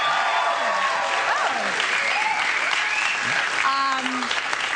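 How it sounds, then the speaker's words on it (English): A studio audience on a late-night talk show breaks into applause, a dense wash of clapping with laughter, while people talk over it throughout. "You can tell by that thunderous applause."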